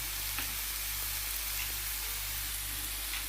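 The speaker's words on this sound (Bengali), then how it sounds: "এক টেবিল চামচ আমি দিয়ে দিলাম টমেটো পেস্ট তারপরে নাড়তে হবে মিডিয়াম আঁচে আসছে আমার চুলাটা" Tomato paste being stirred into meatballs frying over medium heat, giving a steady, even sizzle throughout with faint occasional stirring scrapes and no talk.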